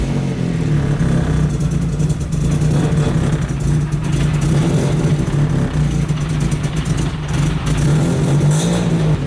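A worn car's engine runs loud and close after ignition, holding a steady, slightly rough idle throughout with a constant low hum.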